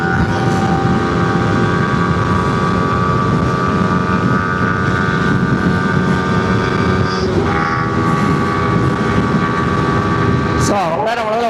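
Yamaha R15 V3 motorcycle engine droning at a steady pitch under heavy wind rush while riding, with a quick rise and fall in pitch near the end.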